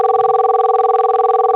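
A Cisco SIP phone rings during a call demo, a loud steady electronic tone pulsing rapidly and evenly for over a second before cutting off, heard alone.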